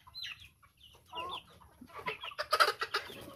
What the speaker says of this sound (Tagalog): Yan ito mga sisiw.